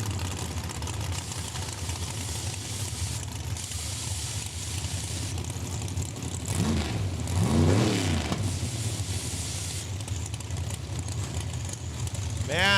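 A Pro Mod 2002 Chevy Camaro roars at a drag strip, a steady engine rumble that swells into a louder revving surge midway, heard from a distance with crowd and track ambience around it.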